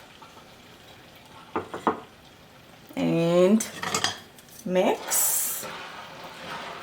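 Spoon scraping and clinking in a pan of vermicelli pudding with melted ghee, cardamom, saffron water and raisins, a few short stirring knocks and a longer scraping sweep, close by with a brief spoken word.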